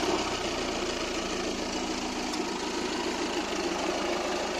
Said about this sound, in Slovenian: Točno kako bi trebao raditi novi dizel. Bez neke pretjerane buke, bez previše onog njegovog čekića